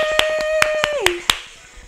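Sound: clapping after a home workout

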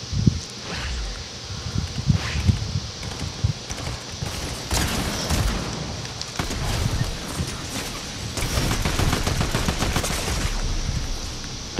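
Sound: gunfire in Fortnite video game

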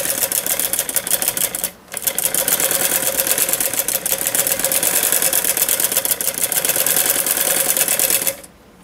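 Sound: sewing machine stitching fabric

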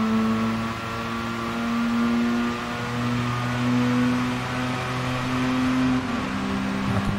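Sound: Mazda RX7 race car engine in Gran Turismo Sport video game

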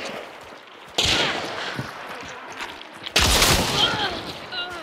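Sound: shotgun fire in the video game Hunt: Showdown

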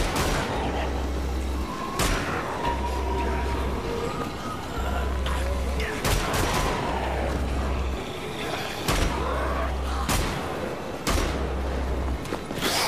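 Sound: gunfire from the video game Wolfenstein: The Old Blood

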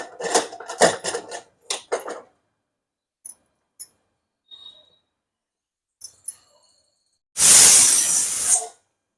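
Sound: pressure cooker whistle

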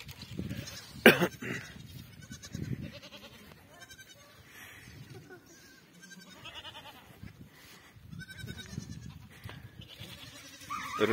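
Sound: young goat kids bleating outdoors

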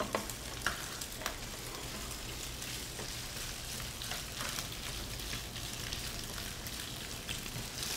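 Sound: pork slices and tofu sizzling while frying in a wok

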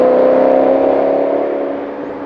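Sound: BMW V8 car engine revving

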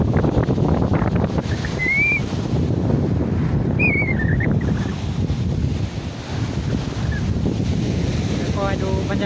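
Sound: sea waves on the beach at night with wind

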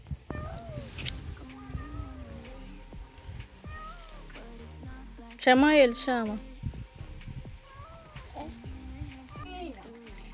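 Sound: cat meowing

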